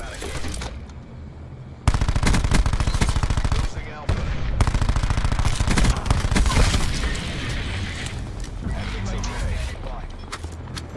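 Cordite rifle gunfire in Black Ops 4 Domination mode, with long rapid automatic bursts, loud and dense, broken by brief pauses, alongside other game sounds and players talking.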